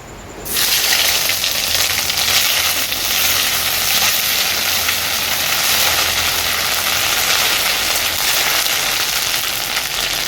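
Ginger paste hits hot tempering oil for a Bengali pumpkin chakka curry, bursting into a loud, close, steady sizzle that starts abruptly and holds for the rest of the stretch, with no talking.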